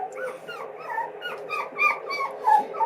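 A small puppy whimpers and yips in repeated high, thin cries, close and fairly loud, with short pulses coming steadily through the clip.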